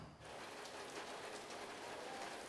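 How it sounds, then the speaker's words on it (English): Rain falls steadily in Lagos, a dense, even hiss of drops striking surfaces, faint and continuous throughout with no voices. "It's a rainy day here in Lagos"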